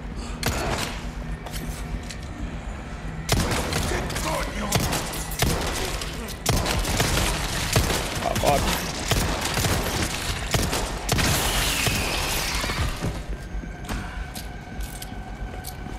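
Rapid gunfire from Resident Evil 4 Remake gameplay, loud dense bursts of shots with brief pauses, layered over game effects and background noise.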